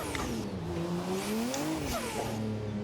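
Drift car on the 2024 Drift Masters Spain layout, its engine droning and shifting in pitch while tires squeal in long sweeping bursts, loud and close throughout.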